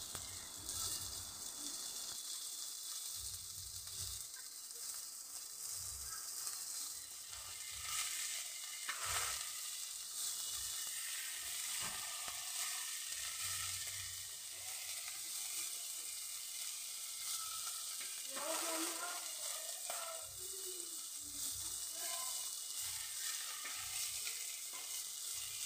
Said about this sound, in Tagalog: So lulutuin lang muna natin ito partially yung ating mga hipon